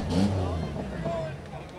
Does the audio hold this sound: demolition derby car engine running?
yes